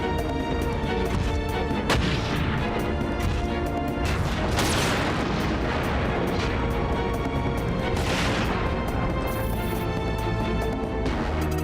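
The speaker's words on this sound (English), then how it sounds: "Fire grenade here." Grenade fire in the mecha strategy game Front Mission 4, a continuous barrage of heavy thuds and crashing blasts layered over a dense rumbling battle backdrop, loud and busy with no talk.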